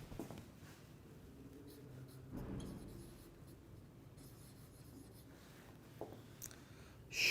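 Marker or chalk writing on a board during a chemistry lecture, soft continuous scratchy strokes with a few louder rubs, fairly quiet, with a teacher's voice faintly present around it.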